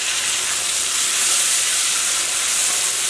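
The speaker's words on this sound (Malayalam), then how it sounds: "ഇതിലേക്ക് ഞാനിവിടെ ഒരു ചെറിയ തക്കാളിയാണ് ചേർക്കുന്നത്." Small tomato frying in a pan with garlic and dried chili, giving a loud, steady, broadband sizzle and hiss that runs on evenly with no talking.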